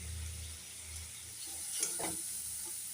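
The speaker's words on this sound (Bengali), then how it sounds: "মশলার পেস্টটা দিয়ে দিচ্ছি। আদা, রসুন, পেঁয়াজ, লঙ্কা, টমেটো, জিরা একটা পেস্ট করে নিয়েছিলাম, সেটাই দিয়ে দিলাম।" A spice paste of ginger, garlic, onion, chilli, tomato and cumin hits a hot pan for khichdi, giving a faint, steady sizzle with a brief stirring scrape midway.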